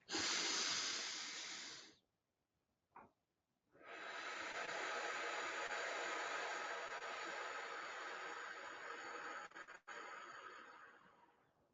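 Slow, deep breaths during a cardiac coherence relaxation exercise: a long, loud, close airy exhale, a brief silent pause, then a sustained steady breath that continues to the end.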